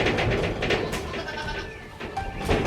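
Several baby goats bleat in quick, overlapping calls, close by, with some background farmyard noise.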